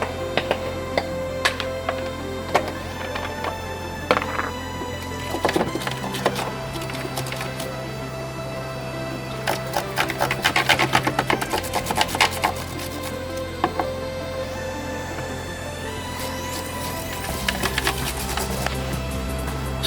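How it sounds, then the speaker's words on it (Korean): A sneaker-cleaning toothbrush scrubbing dust off a Korando Sports pickup with a rooftop tent: continuous close scratchy brushing and rubbing strokes with scattered clicks and taps, steady throughout. "운동화 닦는 칫솔입니다."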